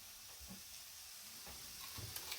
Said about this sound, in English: Ooh, you can hear that sizzle.